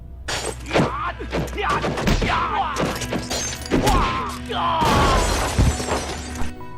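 Repeated crashes of breaking glass, with bright shards clattering amid thuds and scuffling, loud and close throughout.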